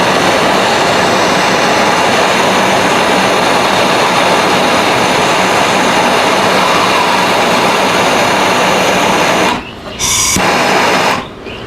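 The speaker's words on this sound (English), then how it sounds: "everybody in their shop, I'm sure by now, has one of these Burns-O-Matic torches" A Burns-O-Matic propane torch roars steadily as it burns debris off a Kutzall titanium carbide wood-carving burr, a loud continuous hiss that briefly cuts out near the end and then resumes.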